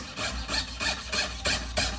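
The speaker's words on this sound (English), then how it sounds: "we'll just get to sawing" Rhythmic back-and-forth hand sawing through thick metal sheet, a steady rasping stroke repeated about every quarter second, close up with a low hum underneath.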